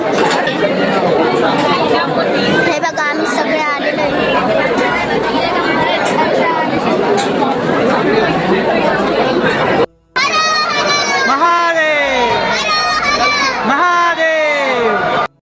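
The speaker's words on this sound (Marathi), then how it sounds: "आम्ही आता आलो त्र्यंबकेश्वरला आणि बघा किती गर्दी आहे" Dense, loud chatter from a crowd of pilgrims packed around Trimbakeshwar temple, a steady babble of many voices with a brief dropout near the end and a few nearer voices speaking over it.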